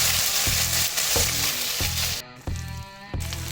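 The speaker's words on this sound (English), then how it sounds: "And we cook this till the time the ginger garlic paste is nicely cooked." Ginger garlic paste sizzles steadily in a hot pan, loud and close, with a few stirring scrapes and a brief dip in the frying noise partway through.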